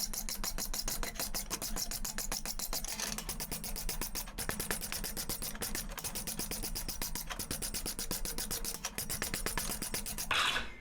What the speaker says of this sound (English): use the block brush to actually smoothen it out